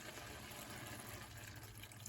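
A small splash of water poured into a pan of cooking igado, a Filipino pork and liver stew, makes a steady, soft hiss that runs for about two seconds without a break, with no talk.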